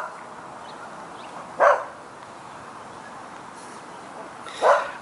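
Dogs bark in hilly countryside, with two single distant barks spaced a few seconds apart over a steady outdoor background hiss.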